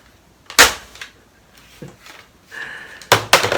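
A Nerf Mega Elite toy shotgun fires, with several sharp plastic snaps and pops, spaced irregularly, close and fairly loud, plus smaller clicks from handling between them.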